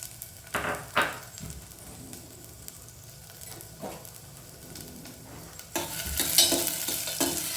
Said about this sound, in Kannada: ಸ್ವಲ್ಪ ಇದು ಎಣ್ಣೆ ಫ್ರೈ ಆಗಲಿ.